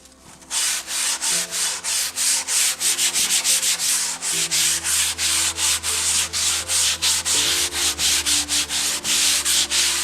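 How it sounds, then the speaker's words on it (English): A handmade wooden letter is sanded by hand in quick, regular back-and-forth strokes, each a rasping rub, repeating steadily and close up with no talking. "With the sanding, there are some particles coming free."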